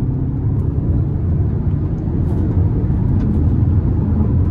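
A 2015 Hyundai Santa Fe Sport 2.0T accelerates under hard throttle, heard from inside the cabin as a loud, steady, deep engine rumble and road roar that holds throughout.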